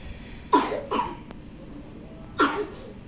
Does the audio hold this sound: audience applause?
no